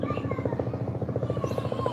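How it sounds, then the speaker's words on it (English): A helicopter's rotor thumps steadily in a fast, even rhythm, loud and continuous throughout the short clip. "That helicopter's not for me."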